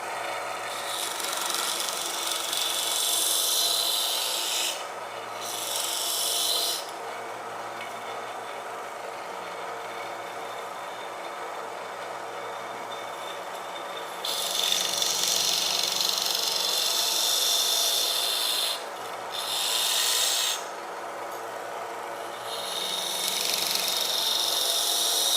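A knife sander whines steadily against a shallow wooden turned platter, with bursts of bright grinding as the wood is pressed to the belt, several on-and-off passes over about twenty-five seconds.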